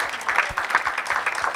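Church congregation claps in quick, uneven bursts of applause with faint voices mixed in, a short stretch of lively clapping close by.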